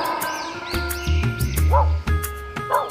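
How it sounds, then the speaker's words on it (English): Dog yipping and barking in quick, close bursts, several short bright barks over a low musical background hum. "D for dog."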